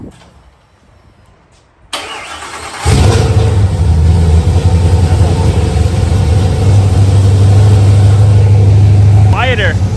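A Coyote V8 swapped into a classic Mustang, fitted with long tube headers, an H-pipe and Violator mufflers, cranks and fires on its first cold start, then settles into a loud, deep, steady idle close by after a quiet stretch.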